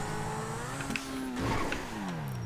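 A Pegassi Zentorno supercar engine in a video game revs and pulls away, a loud rising and falling engine note with gear shifts, tires audible, no talking.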